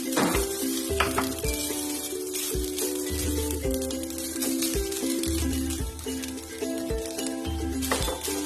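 Jaggery sizzles in a pan while modak is being made, a steady dense crackle with faint clinks and stirring throughout, close and fairly even in loudness.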